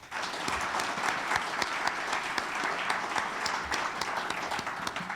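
Sustained applause from an evening awards audience honoring the Champions of the American Dream at Stanislaus State, dense steady clapping at moderate distance with no talk over it.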